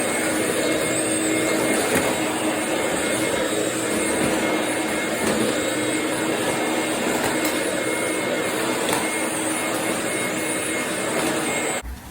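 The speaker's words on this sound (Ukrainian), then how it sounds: "Автівки їдуть і їдуть" Cars on a road make a loud, steady, unbroken rush of traffic and engine noise that holds evenly for the whole stretch and drops away only at the very end.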